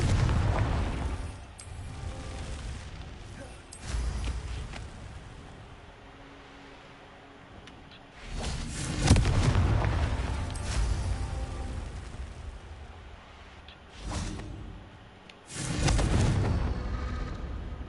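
Confringo fire spell from Hogwarts Legacy, several booming blasts with rumbling bursts spaced apart, loud and close amid a continuous low game ambience.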